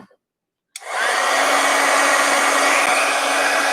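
A heat gun melting embossing powder on a mixed media craft tag, switching on abruptly and then blowing a loud, steady, close roaring whoosh of air.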